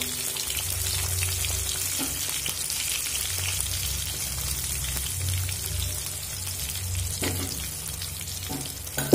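Potatoes fry in oil with salt and turmeric, a steady sizzle and crackle close by, with occasional stirring scrapes and bursts of spatter running under a low, continuous hiss.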